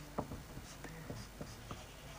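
Pen or chalk writing out a maths answer during a lesson, several faint scratchy strokes over steady background hiss, close but quiet, with no clear speech.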